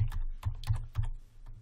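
Keys clatter on a computer keyboard as a file name is typed, several quick close taps in an uneven burst over a low steady hum.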